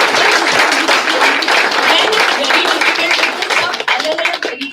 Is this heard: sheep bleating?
no